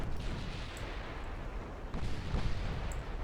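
A torpedo strikes a warship in the naval strategy game Ultimate Admiral Dreadnoughts, producing a loud, sustained rumbling blast with dense low roar and a couple of sharper bursts, no voices.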